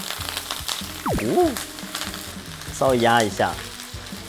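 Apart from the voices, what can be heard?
duck breast skin-side down sizzling in frying pan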